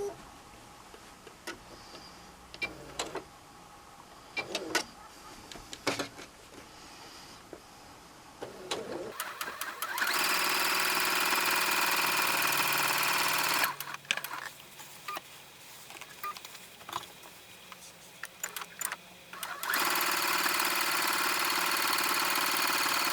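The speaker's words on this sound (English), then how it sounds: "you could call this straight line quilting or stitch in the ditch" A sewing machine running straight-line stitch-in-the-ditch quilting, its steady mechanical whir starting and stopping in long bursts, loud and close, with quieter pauses of handling between runs.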